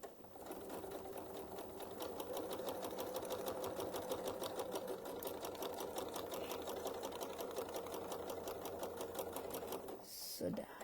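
A sewing machine stitches leather and faux leather in a fast, even run of needle strokes that goes on for about ten seconds, close and clear, then stops with a short clunk at the end.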